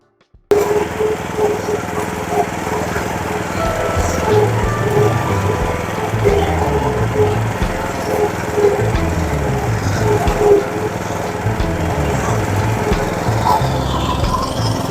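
A verticutter working over a Bermuda grass lawn, a steady engine drone with a low mechanical rumble that starts abruptly and runs loud and unbroken throughout.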